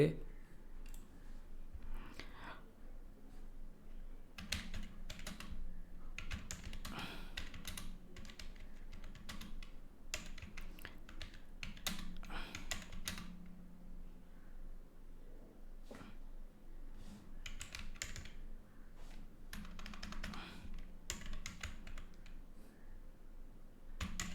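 Someone types on a computer keyboard: quiet, irregular bursts of key clicks with short pauses, close to the mic over a low steady hum.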